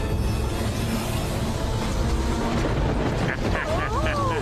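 A strong wind roars through a Motu Patlu cartoon scene, leaves flying, a loud, constant rushing wash from start to finish, joined near the end by a few rising whistling tones.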